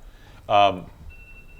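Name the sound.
two-minute parking timer beeping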